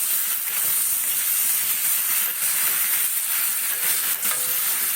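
Fried potatoes tipped into a hot pan for a potato curry, setting off a loud, steady sizzle and hiss that continues without pause, with a few faint scrapes and knocks.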